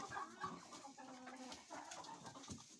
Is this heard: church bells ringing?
no